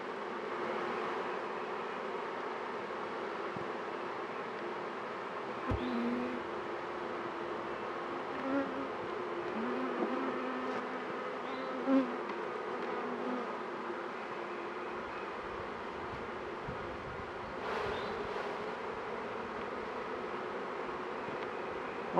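Honey bees buzz in a steady, droning swarm while a beehive is split, with a few faint knocks and clicks of hive parts over the constant hum.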